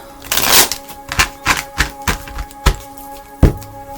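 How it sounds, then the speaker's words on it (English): Tarot cards shuffled by hand during a reading: a series of separate close taps and riffling snaps, irregular and spaced about half a second apart, with a soft murmur beneath. "let's shuffle it again"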